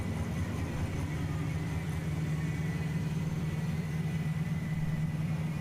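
Nissan Silvia PS13 drift car engine at a drift championship on a race track, a steady mid-pitched engine drone held under open throttle, fairly distant and even in level.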